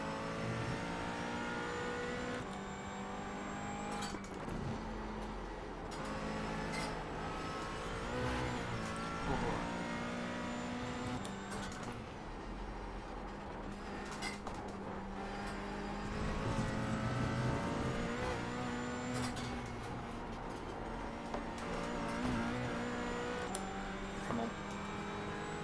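A race car engine drones and revs steadily at Lime Rock Park in iRacing's IMSA Pilot Challenge, a continuous close whine rising and falling through gear changes, with a voice talking occasionally.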